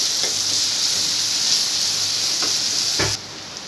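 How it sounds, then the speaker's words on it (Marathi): Chopped onion sautéing in a pan until pink, giving a steady bright sizzle throughout with a few soft stirring scrapes, the sizzle dropping off abruptly near the end. "कांदा आपण गुलाबी रंग येईपर्यंत परतून घेऊया।"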